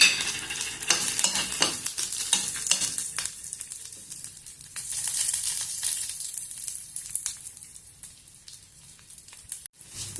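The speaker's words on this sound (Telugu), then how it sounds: "కొంచెం జీలకర్ర, పొట్టు మినపప్పు కొంచెము వేగనిద్దాం" Cumin seeds and split urad dal fry in hot oil as a steady close sizzle, with crackling pops and the scrape of stirring throughout, briefly cut off near the end.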